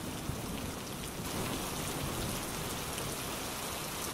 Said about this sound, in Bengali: আরে হারান যে, এই ঝড় বৃষ্টির দিনে আমার বাড়িতে তা কি মনে করে এলি শুনি?